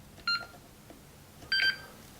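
Two short electronic beeps from a Honeywell G4 burglar alarm keypad as its X button is pressed twice, spaced about a second apart, faint over a quiet room hiss with no talking.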